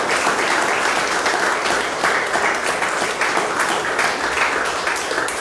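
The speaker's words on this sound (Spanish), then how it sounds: "Yo quiero pedir un fuerte aplauso nuevamente para la labor del doctor Julio." Strong, sustained applause from an audience at a sports club recognition ceremony honoring a doctor, dense and loud, with no talk over it.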